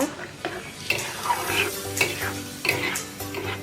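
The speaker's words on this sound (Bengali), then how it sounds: "আমি গুড়টা অ্যাড করে দিয়েছি, এখন নেড়ে চেড়ে দেব।" Tomato and mango pickle with jaggery sizzles steadily in a pan, stirred with repeated scraping strokes and occasional clinks, close and loud.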